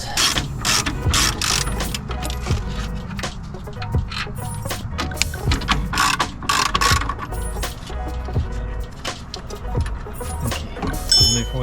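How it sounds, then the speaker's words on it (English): An impact wrench works loose a badly rusted brake line fitting on a Toyota MR2 during a coilover install, firing repeated loud close rattling bursts in an uneven rhythm, with metallic clicks between them and no speech. "Since this is really rusty, we're just going to use an impact to take this off."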